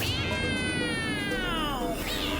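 A cat gives one long, drawn-out meow that slides downward in pitch, close and fairly loud, with a yowling edge to it over a steady background hum.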